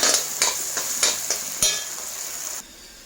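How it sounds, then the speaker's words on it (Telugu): Masala for a mushroom curry fries in a pan while a spoon stirs it, giving about six rhythmic scraping strokes over a steady sizzle. The sizzle drops to a quieter hiss near the end. "మసాలా కూడా బాగా వేయించుకుందాం. మసాలా కూడా బాగా వేగాలండి,"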